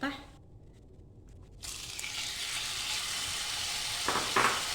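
Cauliflower galette for a Kabyle recipe frying in hot oil, a steady close sizzle that swells louder after a brief quieter start, with a few crackles near the end.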